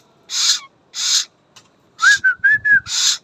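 A pet cockatoo gives loud, harsh screeching calls close by, three spaced bursts, then a wavering whistle broken into short choppy pulses before a final screech, with no talking.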